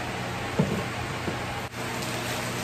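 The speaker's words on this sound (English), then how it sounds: "I'm so sorry about the fan and the noise," Steady broadband whoosh of an electric fan running in a hot room, a constant airy hiss with no breaks.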